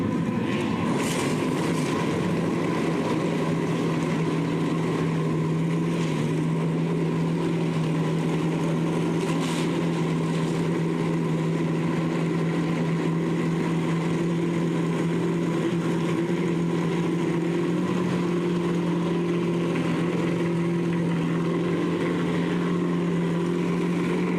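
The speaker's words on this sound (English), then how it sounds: "Drivers, start your engines." NASCAR stock car engines start up together at Daytona International Speedway for the Bud Shootout, a dense steady roar of many idling engines filling the scene continuously, loud and sustained.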